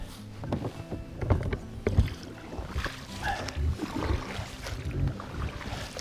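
A boat drifting downstream on the Moksha river on a cool morning with a light breeze, giving a steady low rumble of water and wind with soft knocks and splashes near the hull.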